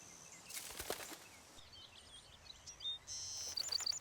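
Sparrows, wrens, cardinals and crows chirp and call in short scattered bursts, faint and somewhat distant over quiet outdoor ambience, with a denser run of high repeated chirps near the end.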